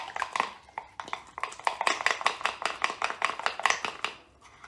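A spoon scrapes and clinks rapidly against a mug while stirring flour, egg and praline into a batter, a close, busy stirring rhythm over a few seconds.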